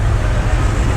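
A classic car passing at a street machine show in St. Paul, Minnesota, giving a loud, steady, close engine and road rumble throughout a brief moment.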